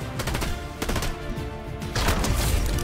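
Rapid bursts of automatic gunfire from a computer-controlled enemy in Fortnite, a run of quick cracks at moderate distance, with a denser, louder volley near the end.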